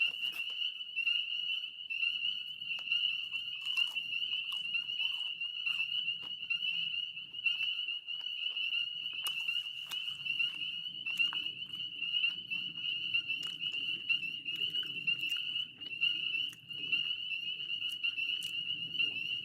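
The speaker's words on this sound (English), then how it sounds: "listening to frogs" Frogs calling outdoors at an off-grid homestead, a dense steady high-pitched trilling chorus with scattered sharper croaks and clicks over a faint low rumble, fairly quiet and continuous with no talk.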